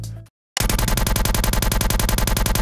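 A modern gun sound effect built from layered samples for film and games fires as a fast, even burst of loud, close repeated shots, like automatic gunfire, after a brief cut to silence.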